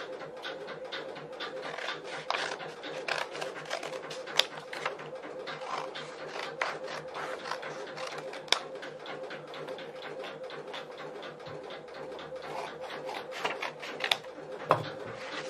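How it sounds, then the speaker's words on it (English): Scissors snip steadily through paper, cutting out rough paper templates in a quick, even stream of close, crisp cuts with a few sharper clicks and no talking. "So I'm going to roughly cut these out."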